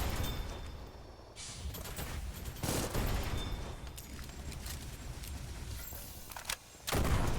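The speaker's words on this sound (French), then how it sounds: "Ouh, une mitraillette." Submachine gun fire in the video game Doll Nest, rapid bursts of shots that come and go over a dense, loud game soundscape with booms.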